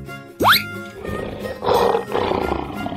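A lion roars in a short burst of rough, throaty roaring and grunting after a quick rising sweep, moderately loud over a noisy background.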